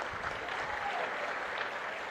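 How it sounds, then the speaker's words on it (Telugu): Steady applause from an audience for a police officer at a public event in Gudivada, continuous moderate clapping for a couple of seconds without speech. "గట్టిగా చప్పట్లు కొట్టి అభినందించండి ఆయన్ని"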